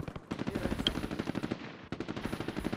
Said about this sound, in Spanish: ¡Nos disparan! No sé de dónde, güey.